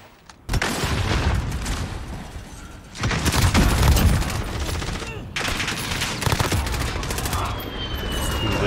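Rapid automatic M4A1 rifle fire in the video game Call of Duty Modern Warfare, dense sustained bursts with brief gaps between them, loud and close, with faint talk in the background.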